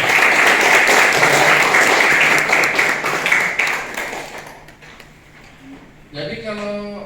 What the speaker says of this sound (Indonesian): Boleh tepuk tangan dong buat Ayaba Indonesia.